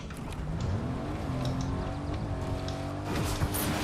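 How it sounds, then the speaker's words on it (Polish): Engine of a car driven in Fortnite during play, a steady motor drone with shifting pitch as it accelerates, continuous and fairly loud, with brief tire and impact noises near the end. "Biorę samochód i tam pojadę."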